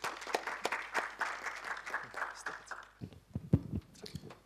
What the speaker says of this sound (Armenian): Ծափահարություններով դիմավորենք։